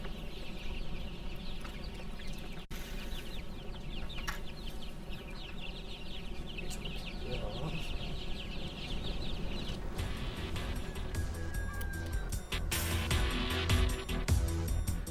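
Laying hens cluck steadily in the background over a constant hum, occasional sharper calls rising from the flock, with no talking.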